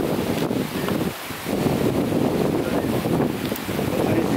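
Waves break on the shore of the Amur bay under a strong wind: a steady, loud, rushing wash of surf and gusting wind noise with no voices over it.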